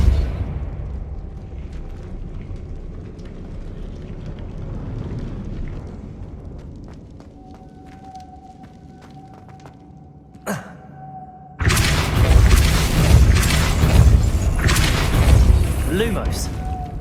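A Depulso spell from Hogwarts Legacy on PS5 fires as a sudden blast, followed by a loud, sustained burst of force over the game's quieter background ambience.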